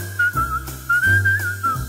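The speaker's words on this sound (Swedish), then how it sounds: "under balkongen och visslar till dig" A person whistles a melodic tune over a steady musical accompaniment in a Swedish song, the whistled line rising and falling in continuous phrases.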